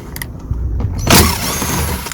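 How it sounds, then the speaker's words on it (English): A 10mm bolt on the under tray of a Nissan Qashqai is undone with a tool: a few light clicks, then a short, louder mechanical burst at close range, over a low steady background. "So just gonna undo this bolt here, which is a 10mm bolt."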